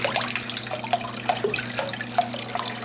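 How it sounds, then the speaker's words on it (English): A pet turtle splashing water in its tank, giving close, busy sloshing with scattered drips and small splashes that keep going throughout. "all he does is splash the water like this"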